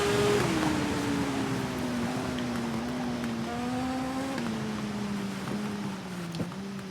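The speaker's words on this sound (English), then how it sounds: "Doesn't quite have that punch as well, the engine sound." A supersport motorcycle engine in the TT Isle of Man racing game drones loud and steady, its pitch sliding down and climbing across gear changes while it runs continuously throughout.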